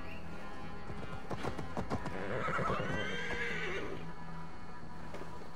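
A horse whinnies loudly in the video game Assassin's Creed Valhalla with a shaky, descending call, accompanied by clip-clopping hooves and a low background hum.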